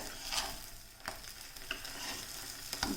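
Holige flatbread cooks in ghee on a pan over a low flame, giving a quiet, steady sizzle broken by a few soft scraping and tapping touches from turning it.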